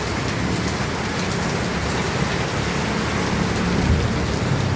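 Heavy rain pours steadily, a dense unbroken hiss drumming on surfaces all around, loud and constant throughout.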